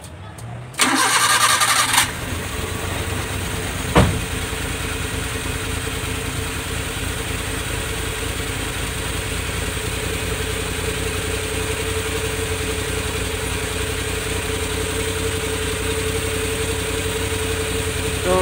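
A car engine with a freshly overhauled twin carburetor cranks briefly and fires up, then settles into a steady, even idle that runs on at moderate level with a small blip partway through.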